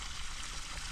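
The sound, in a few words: water being added to farm pond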